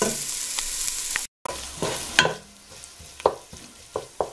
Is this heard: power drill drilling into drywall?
no